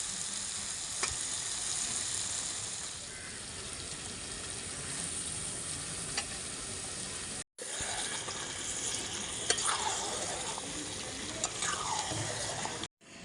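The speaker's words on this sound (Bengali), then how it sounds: "মশলাটা হালকা করে ভাজা হয়ে গেলে তখন চিকেনটা দেব" Country chicken sizzling hard in a pan of lightly fried spice masala, a loud, steady crackling hiss with brief bubbling, cut off for a moment partway through; no one speaks.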